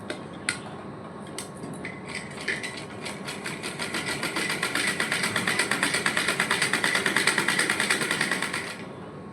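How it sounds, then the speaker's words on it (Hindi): An electric sewing machine stitches cut strips of blouse fabric, starting with a few short bursts and then settling into a steady, close rapid clatter that speeds up and grows louder. "अब हमें अपनी ये जो पट्टियाँ कट की थी उन दोनों पट्टियों को स्टिच कर लेते हैं।"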